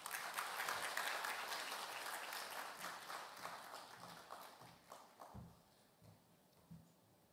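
Warm applause from a church congregation welcoming speakers at a discipleship training completion service, a full burst of clapping that gradually thins into scattered claps and light footsteps.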